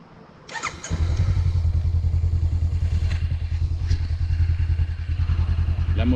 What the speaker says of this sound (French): La moto est démarrée.